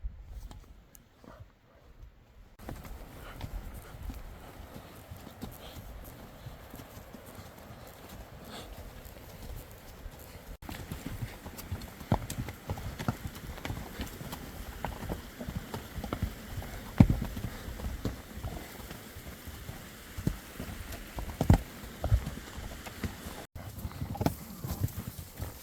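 A ridden horse's hooves clip-clop up hilly terrain on an Idaho deer and elk hunt, irregular close footfalls that grow louder and busier after a quiet start, with no talk over them.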